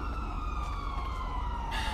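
A police car siren in GTA V wails steadily and fairly loud, holding a continuous tone that slowly falls in pitch over a rumbling game background.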